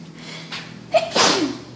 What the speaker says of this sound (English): I sneezed away from the camera.